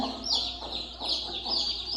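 A mother hen clucking with her chicks in a brooder, a series of soft, rhythmic clucks close by, with faint chick peeps over them.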